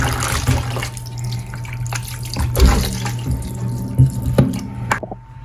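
Tap water running steadily into a pot of mutton to cover the meat, a close continuous splashing gush with a few louder bumps, ending as the flow is cut off.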